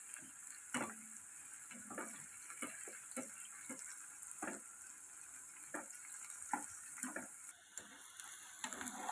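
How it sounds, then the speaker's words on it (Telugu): Okra pieces for bendakaya 65 fry in hot oil, giving a steady soft sizzle with scattered crackles and pops at close range, fairly quiet, with no talking. "అవి బాగా చక్కగా వేగుతున్నాయి"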